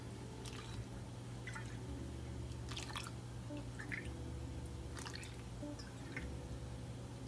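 Pancake mix, milk and eggs being stirred together in a bowl for a breakfast casserole, faint wet squishing and sloshing with occasional soft clicks of a utensil, quiet and steady with no talking.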